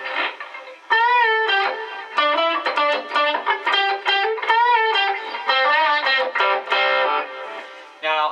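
An electric guitar plays a run of clear melodic notes through a Boss Katana amp with delay and reverb on, ringing sustained tones and echoing tails, loud and close with no speech.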